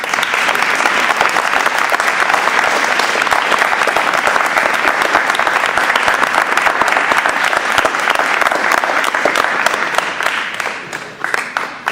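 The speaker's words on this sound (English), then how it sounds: "We'd like to thank you with a round of applause for your years of service." A room of meeting members claps steadily for an award presentation, a sustained, even round of applause with close, crisp hand claps that tapers off slightly at the end.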